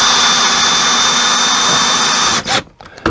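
Power screwdriver whirring steadily as it drives screws into a wall over a metal plate during a slide-room gearbox repair, a loud continuous motor whine that cuts off abruptly near the end, followed by brief clicks.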